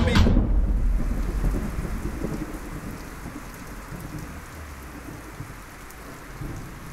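Heavy rain pours steadily during a rainy-season flood at night, with a loud thunderclap at the start that rumbles away beneath the constant downpour.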